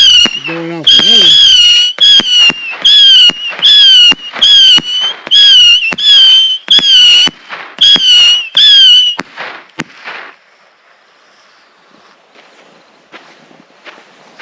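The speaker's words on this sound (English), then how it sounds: "100-shot cider missile by Red Apple." A Red Apple Zappers 100-shot cider missile fireworks cake fires a rapid series of sharp whistling, crackling bursts, loud and close, then fades into faint sputters.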